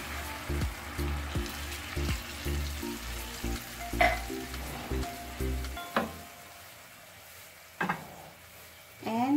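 Ground pork frying in a pan after a splash of water, with a steady sizzle broken by several sharp stirring clatters and scrapes, close and fairly quiet.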